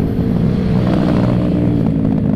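Yamaha NMAX scooter fitted with an upgraded CVT, accelerating on a test ride; a loud, steady engine drone with rising rumble fills the whole stretch, close to the rider, with no talk.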